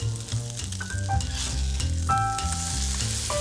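Pork shoulder sears in a cast-iron pot over high heat, a loud, close, continuous sizzle with sharp crackles and a faint metallic ring, heard alone without voices.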